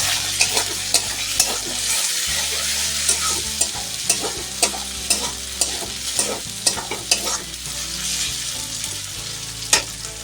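Chili sauce being stirred into a sizzling pan for an egg-wrapped cauliflower kabiraji, with a constant loud frying hiss and repeated sharp spatula scrapes and taps against the pan. It is close-up, and no one speaks.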